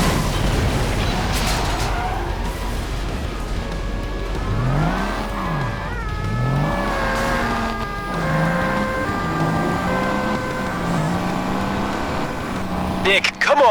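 A car drives in the game Crash Time Undercover, its engine droning loud and steady while the pitch rises and falls through repeated gear changes and revs, with voices talking over it.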